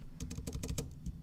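Quick, uneven keystrokes tap on a computer keyboard, a close, quiet burst of typing with no voices.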